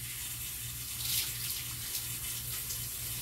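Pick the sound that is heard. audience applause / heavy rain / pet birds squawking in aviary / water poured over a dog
water poured over a dog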